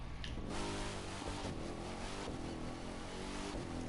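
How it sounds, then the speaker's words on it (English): A Dodge Demon V8 engine revs in The Crew 2, a steady throaty roar with a rising pitch, heard close and alone. "Definitely sounds like a V8."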